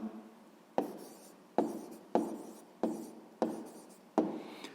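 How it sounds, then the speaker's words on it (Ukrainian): Handwriting a math answer on paper: six firm strokes of pen or pencil, each a crisp scratch that tails off, evenly spaced and close with no voices. "Ну що ж, записуємо відповідь"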